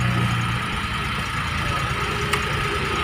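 A Chery QQ car engine idling steadily after its starter was bypassed with a direct wire, a constant mid-pitched hum with a faint knock, heard up close.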